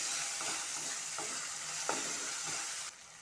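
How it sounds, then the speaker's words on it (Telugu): Carrot pieces fry in a pan for chicken pasta with a close, steady hissing sizzle, a few soft stirring clicks, and an abrupt drop near the end. "క్యారెట్ పీసెస్ కూడా వేస్తున్నాను. ఇవన్నీ వేపుకోవాలి."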